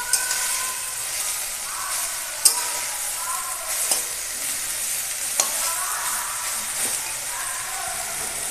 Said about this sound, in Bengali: এবার ভেজে নেব পাতাগুলো।